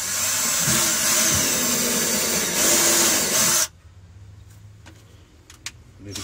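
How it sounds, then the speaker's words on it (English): An electric drill bores down through the floor of a 6x6 Perentie ambulance, with a loud steady grinding whir for several seconds that cuts off abruptly, followed by quieter knocks and handling sounds. "I'm going to drill right in the corner."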